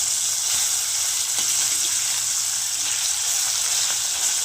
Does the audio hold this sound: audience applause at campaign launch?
no